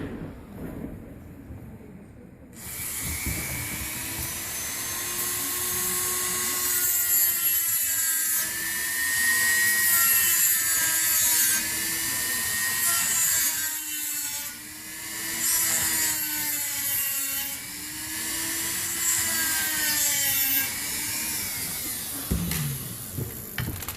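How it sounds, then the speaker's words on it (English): A Dremel rotary tool with a cutoff blade shaves down plastic in a steady, close, high-pitched whine that wavers in pitch as the load changes, running for about twenty seconds after a brief quiet start. "I like to take a Dremel tool with a cutoff blade and then just simply shave it off until it gets nice and smooth with a 45-degree angle"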